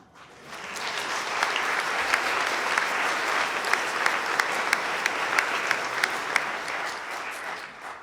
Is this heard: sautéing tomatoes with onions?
no